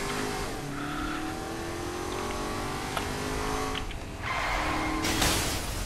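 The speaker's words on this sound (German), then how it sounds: "Oh, mein Auto hat nicht ganz so gedriftet, wie ich es wollte." A car in Saints Row: The Third drifting, with a steady engine drone and a long, wavering tire squeal, closing in a louder skid burst near the end, with no voices over it.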